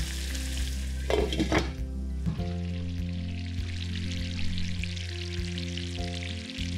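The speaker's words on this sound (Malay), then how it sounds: "Kacau ayam biar rata bersalut dengan sos" Chicken sizzles steadily in a pan of Thai chili sauce thinned with a little water, with a burst of stirring and scraping early on before the even frying sound carries on alone.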